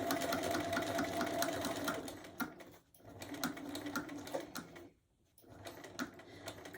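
A sewing machine runs steadily over a quilted fabric basket handle, a continuous close mechanical whir that cuts out briefly twice before starting again.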